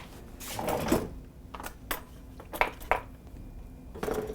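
Peanut butter being cut into a buckeye candy mixture with utensils: scattered clinks, scrapes and knocks of metal against a bowl, irregular and close, with a few louder hits.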